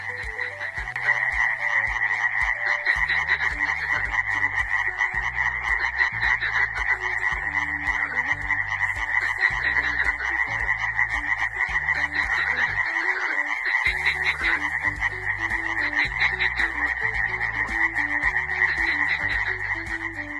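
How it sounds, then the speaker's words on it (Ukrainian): Frogs croak continuously in a dense chorus, a loud rhythmic pulsing of many voices with deep repeated throbs underneath. "А як вони кумедно квакають."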